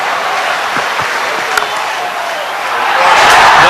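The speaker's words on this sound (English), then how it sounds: "if he does go to 100, this crowd will erupt" A stadium crowd at a one-day international cricket match between South Africa and Australia roars as Herschel Gibbs reaches his century, a dense sustained cheer and applause that swells louder toward the end.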